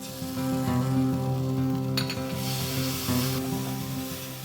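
A spoon scrapes and stirs through thick locro in a pot as ají amarillo paste is mixed in, with a soft bubbling, sizzling undertone and a faint clink of utensil against the pot.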